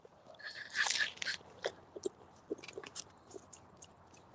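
Crunchy bites and chewing of a samosa dipped in spicy sauce, from a vegetarian Indian restaurant, heard up close with a loud initial bite followed by softer, irregular chewing sounds.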